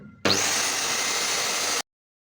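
An Agaro vacuum cleaner switches on abruptly and runs loud and harsh for about one and a half seconds in a home, then cuts off into silence.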